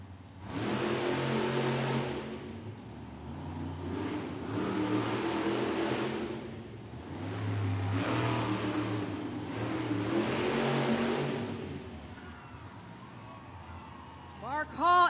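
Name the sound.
Raminator monster truck engine revving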